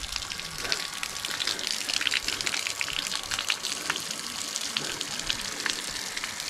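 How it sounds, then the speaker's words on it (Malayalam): Water gushes in a continuous splashing hiss from the trunk of an elephant statue fountain, steady and fairly close, with no talk. "നമ്മളിതേ കയറി വന്നപ്പോൾ തന്നെ തുമ്പിക്കത്തോടെ വെള്ളം വന്നു തുടങ്ങി"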